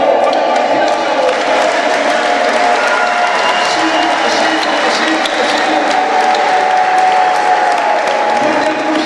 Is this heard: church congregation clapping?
yes